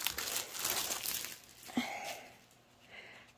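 A paper envelope being opened to take out a cross-stitch canvas, soft close crinkling and tearing of paper with one sharper crackle midway and quieter rustles after.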